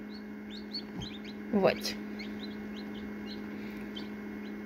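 Newly hatched chicks, including a black and a blue splash, peep in high, scattered cheeps that run throughout, with a brief voice and a louder nearby sound partway through over a steady background hum.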